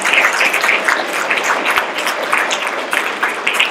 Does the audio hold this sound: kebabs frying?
no